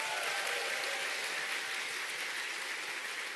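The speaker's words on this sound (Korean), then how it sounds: "내가 바로 오늘 그 사람입니다 하시는 분은 본인에게 큰 박수 보내주시기 바랍니다" An audience at a business success talk claps steadily in a large hall, a soft, even wash of many hands from a distance with no voices over it.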